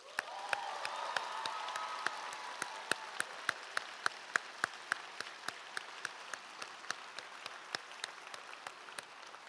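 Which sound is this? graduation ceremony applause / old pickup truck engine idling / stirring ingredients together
graduation ceremony applause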